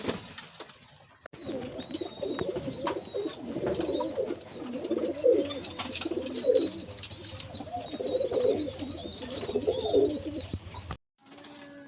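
Caged pigeons coo in low, repeated throaty rolls close by, joined by soft chirps, with faint scuffling in the background and no talk.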